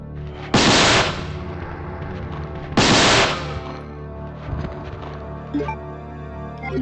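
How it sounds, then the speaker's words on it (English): Two loud, bursting grenade launcher spark shots fired in the 1998 Resident Evil 2, a couple of seconds apart, each a roaring crackling blast trailed by quieter clicks and game sounds. "Let's give them some spark shots."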